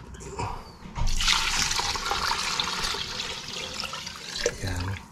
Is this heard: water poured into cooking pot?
yes